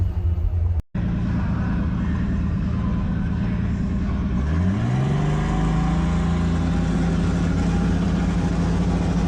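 A Nissan 350Z sits at a drag strip, its engine idling with a low rumble, then revving hard partway through. The pitch climbs and holds at a sustained high drone, loud and close.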